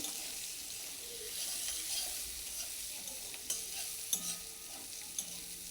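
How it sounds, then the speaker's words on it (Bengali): Chopped onions fry in a pan for a fish curry, giving a soft, steady sizzle with a few sharp clinks of stirring near the end and no talking. "পেঁয়াজ কুচিগুলো লাল লাল করে ভেজে নিতে হবে"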